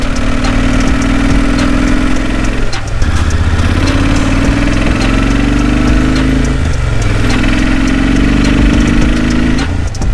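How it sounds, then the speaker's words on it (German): Steady roar of wind buffeting a helmet microphone while riding a Kawasaki VN1500 cruiser motorcycle, with the low engine hum running underneath throughout and no talking. "Ich höre nur Wind und Wind und noch mehr Wind."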